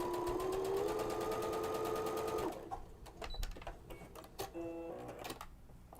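A sewing machine runs a straight stitch with an edge-joining foot, a steady motor whir for a couple of seconds, then stops, followed by scattered clicks and short bursts of stitching, close and clear.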